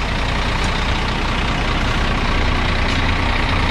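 A heavy Scania K360 bus engine idles steadily with a deep, continuous rumble and broadband roar, loud and close, no voices.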